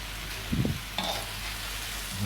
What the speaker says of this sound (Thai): มะเขือลงไปกันเลยครับ เราคุกเขากันอีกทีนะครับ